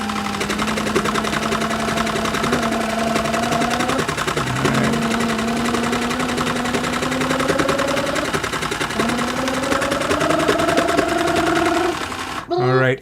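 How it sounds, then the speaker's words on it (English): Cool Maker toy sewing machine stitching fabric for a ninja doll, a steady motor whir with rising and falling pitch running nearly continuously, briefly pausing around the middle and stopping at the end. "Start my stitch."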